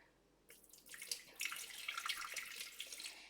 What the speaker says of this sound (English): 100 grams of water straight out of the tap